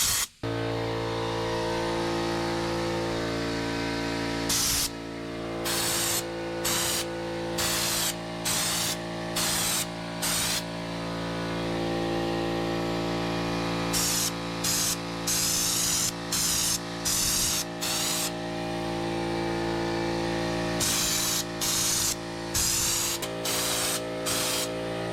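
Raptor liner bed coating is sprayed onto Nissan Hardbody truck bumpers in repeated short hissing bursts, grouped in quick runs over a constant mechanical hum from a compressor or spray rig.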